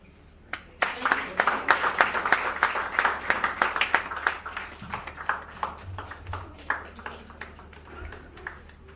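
An audience at an unveiling event claps in a burst of applause that starts strong, then thins to scattered individual claps and fades out.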